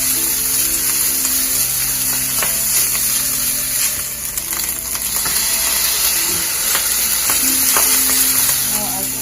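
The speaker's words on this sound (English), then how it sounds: "Just fry the rice for a little bit." Rice frying in a pan with shrimp and vegetables for Chinese shrimp fried rice, giving a steady, close, loud sizzle with scattered clicks from a stirring utensil and no talking.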